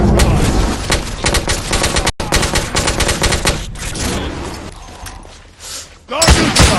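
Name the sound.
gunfire in the video game The Order 1886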